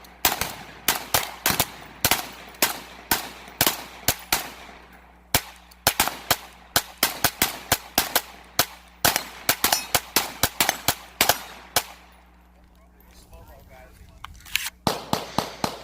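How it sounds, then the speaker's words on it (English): A Kel-Tec CP33 pistol fires into a hillside outdoors, with many sharp, loud shots in fast irregular strings and a brief pause before the last few rounds. "Just shooting into the hillside here."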